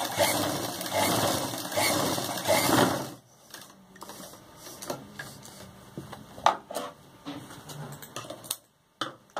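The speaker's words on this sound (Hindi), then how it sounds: "फिर इसके ऊपर बिल्कुल सीधी सिलाई चला देंगे" A sewing machine runs a straight stitch over fabric laid on top of pleats for a lehenga choli neckline, its dense mechanical whir steady and close for about three seconds before it stops, followed by quieter scattered taps and handling sounds.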